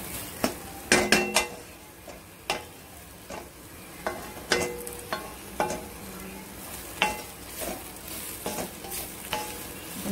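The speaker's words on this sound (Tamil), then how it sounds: "ஒரு ரெண்டு நிமிஷம் இப்படி வதக்குறோம்." Moringa leaves sautéing for poriyal in a pan, a soft continuous sizzle broken by repeated sharp clinks and scrapes of a spoon against the metal as the greens are tossed, no talk.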